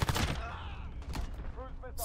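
Rapid gunfire from a gun in the Modern Warfare beta, a string of close, punchy shots in quick bursts with shorter pops toward the end, heard amid game sounds.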